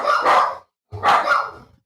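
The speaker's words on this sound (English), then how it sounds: "These dogs gonna drive me crazy." Two loud, close dog barks, each a sharp burst separated by a short silence, with no talking over them.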